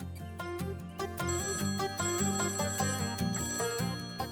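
A ringtone-style melodic phone ring plays steadily and fairly loud, its repeating electronic tones filling the whole stretch with no voices.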